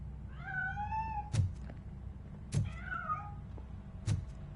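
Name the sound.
cat meowing in RoboCop video game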